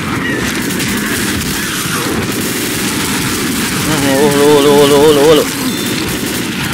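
Rapid bursts of pistol gunfire in Left 4 Dead under excited talking, with a louder, denser stretch of shooting near the end.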